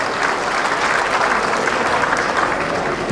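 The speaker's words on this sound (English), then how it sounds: "So a big round of applause for them" Sustained applause from an audience at a university alumni event, a steady dense wash of clapping that holds evenly at full strength for the whole stretch, with a faint murmur of the crowd beneath.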